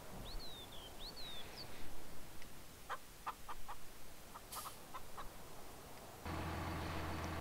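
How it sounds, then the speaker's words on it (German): Chickens in the farming game Farming Simulator 19 give faint, scattered clucks and cackles over a quiet outdoor background, with a few light bird chirps and a low engine hum starting near the end. "Hühner sind am Gackern"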